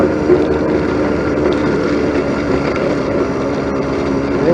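A 49cc four-stroke motorized bicycle engine buzzes steadily while riding along a rough dirt trail, a close, loud, continuous drone mixed with rumble and rattle from the ground, with no talking.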